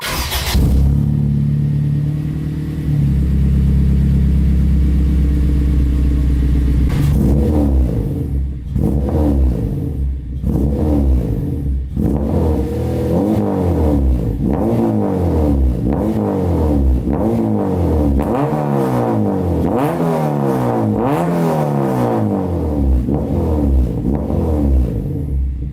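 A loud Acura RSX fitted with a Skunk2 Alpha header and Megapower RR 3-inch exhaust idles, then revs repeatedly in rising and falling sweeps, close up with no talking.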